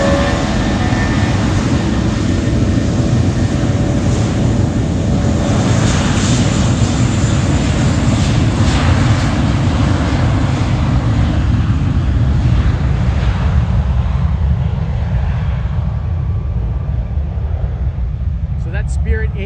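A Spirit Airlines Airbus A320 jet roars loudly as it takes off from a runway, a steady, powerful engine rumble that slowly fades into the distance.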